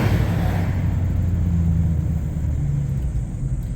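A truck towing an RV for transport rolls along a road through Goshen, Indiana, giving a steady, loud low engine rumble and road drone with faint higher hiss, continuous throughout with no speech.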